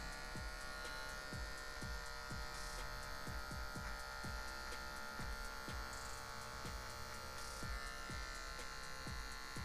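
Hair clipper with a zero guard set high, humming close and steadily while cutting hair in short C-shaped strokes, with regular brief scraping bursts over the motor drone and no voices.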